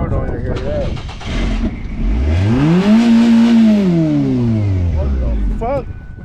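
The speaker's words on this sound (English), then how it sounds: "Sound like a Ford, man. Let me tell you, just revved up." A Ford station wagon engine cranks, catches and revs up, its pitch climbing and then sliding back down over several seconds, loud and close, with voices nearby.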